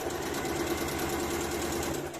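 A sewing machine runs steadily, stitching fabric scraps into a bottle carrier, with a continuous close mechanical hum and rapid needle chatter throughout.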